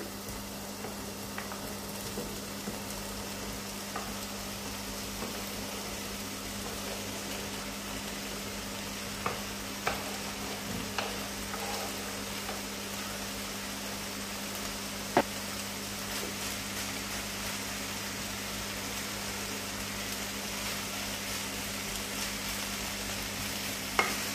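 Chipolata meat and chopped vegetables frying together in a pan for a spaghetti dish, a steady close sizzle throughout with occasional sharp clicks of a utensil stirring and scraping.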